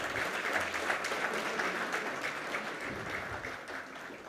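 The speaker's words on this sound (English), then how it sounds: "Let's have a round of applause, ladies and gentlemen," An audience at a logistics summit gives steady, moderately loud applause, a dense wash of clapping that fades slightly toward the end, with faint talk beneath.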